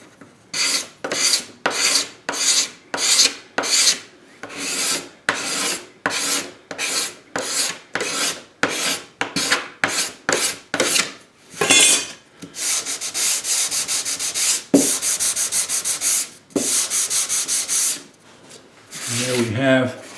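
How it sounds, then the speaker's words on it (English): A steel card scraper works dried glue off a hammer-veneered wood panel in quick, regular rasping strokes, about two per second, close and loud, followed by a few longer, uneven scraping passes. "I'll just give that another hit with the card scraper."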